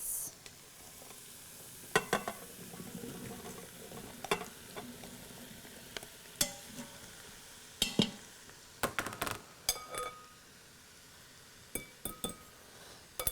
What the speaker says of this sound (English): I'm going to add in the green beans.